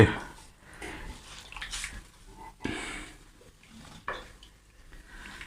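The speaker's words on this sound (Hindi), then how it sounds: "ये चने इसमें डाल रहा हूँ।" Boiled chickpeas and their cooking water are poured into a pot, producing a few close splashes and pot clatter, with brief clinks and someone speaking in between.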